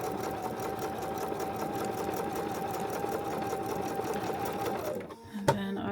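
A sewing machine stitches a fabric strip for a dog leash, running in a fast, even whirring chatter for about five seconds before stopping, followed by a couple of small clicks.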